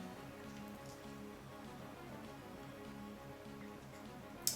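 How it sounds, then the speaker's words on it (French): Steady, even rain patter from a Pokémon X/Y battle fills the whole stretch at a low level, with no voices and a soft electronic tone layered underneath. "Il envoie son Tarpo, qui ramène la pluie."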